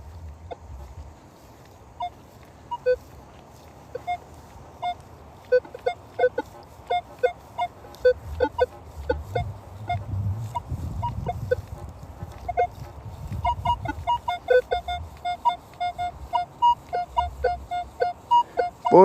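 Metal detector beeps while digging outdoors, a jumpy signal of repeated tonal pulses that starts sparse and grows into a rapid, rhythmic string of loud beeps near the end.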